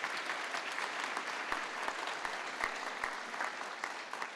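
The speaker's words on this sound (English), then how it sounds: "let's give them a round of applause." A large audience applauds at the University of Arizona College of Optical Sciences pre-commencement celebration, with dense, steady clapping and a few sharp low thumps throughout.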